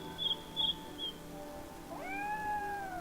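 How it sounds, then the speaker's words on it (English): A cat in the video game AFK Journey gives a few short, high chirping mews, then one longer drawn-out meow that bends up and trails off, clear and close with no talk. "I see a kitty!"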